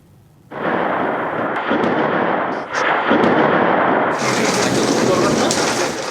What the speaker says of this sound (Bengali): রাত থেকে অঝোর ধারায় বৃষ্টি, সঙ্গে বজ্রপাত